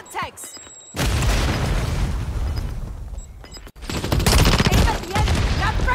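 A Semtex grenade blows up in Call of Duty: Modern Warfare 3, with a loud blast about a second in, then another heavy burst later and gunfire rattling through a busy match, while players talk over it.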